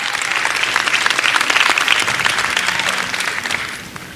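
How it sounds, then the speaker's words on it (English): Audience applause at a youth empowerment summit, a loud, sustained clapping from a crowd that holds steady for about three and a half seconds before tapering off at the end. "Let's give a loud clap to these guys here"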